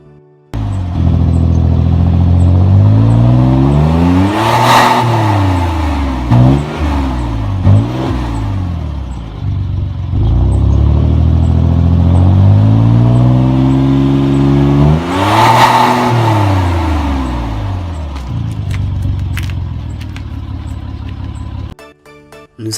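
A new petrol car in the 30,000-euro class revs hard and accelerates twice, the engine note climbing through gear changes in two loud, close sweeps, then easing before a final short burst.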